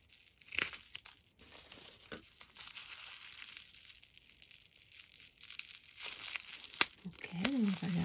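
Scissors cut open small plastic bags of jewellery beads. Quiet crinkling and tearing come in bursts, with soft talking between them.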